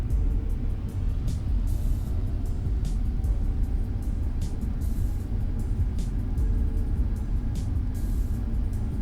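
Airbus A320neo thrust reversers at full power after touchdown in Aerofly FS Global, a loud, steady, deep engine roar with broad rumble and no break.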